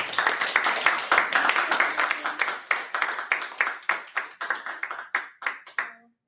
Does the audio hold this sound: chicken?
no